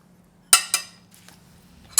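A metal spoon clinks against a dish while scooping rice with spicy stir-fried octopus: two sharp scrapes, a quiet pause with faint taps, then another clatter at the end, close and distinct.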